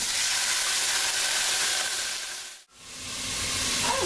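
Onions tipped into a hot pan with browned eggplant for an Indian baingan ki sabji, a loud steady sizzle and hiss that briefly cuts out and then resumes just as strongly.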